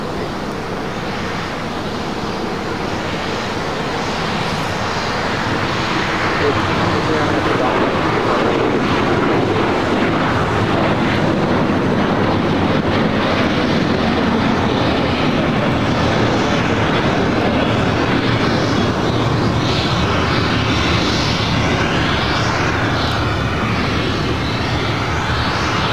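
A United Boeing 777-200ER jet at LAX roars steadily and loudly throughout, a broad, continuous engine rumble that swells slightly and holds without a break.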